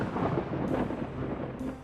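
Cartoon thunder from an approaching lightning storm over the sea rolls as a low, muffled rumble, fairly faint and continuous for a couple of seconds.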